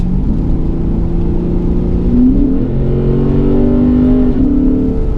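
A Lexus RC F engine in Sport Plus mode revs and drones steadily up close on a rainy canyon road, its pitch climbing and dipping as it accelerates, loud and continuous with no voices.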